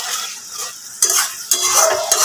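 Taro leaves and chickpeas being stir-fried in a pan, a loud close sizzle with sharp scraping strokes of a spatula at intervals, no voices.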